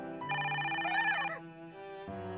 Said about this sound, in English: I heard the sound of not only Kagura's ringtone, but also a surprised cry.